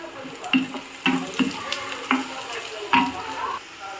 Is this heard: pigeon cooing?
no